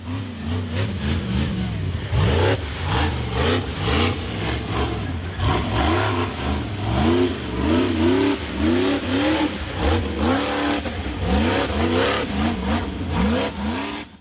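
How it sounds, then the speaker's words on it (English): A blue off-road buggy's engine roars and revs hard as it charges up a steep, rocky dirt hill, the pitch climbing and dipping in repeated surges, loud and close throughout. "The blue buggy built up speed and charged up the rocky dirt hill."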